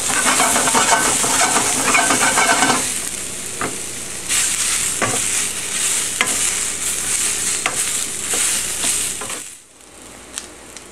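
Red onions and string beans sizzling loudly in a pan, with a dense hiss that eases after a few seconds into steadier frying punctuated by spatula clicks and scrapes, close up with no talk.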